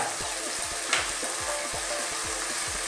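Bitter melon sautés in a pan for a Filipino fish and ampalaya dish, giving a constant close sizzle with regular low thumps from stirring and one brief sharp clatter, no voices.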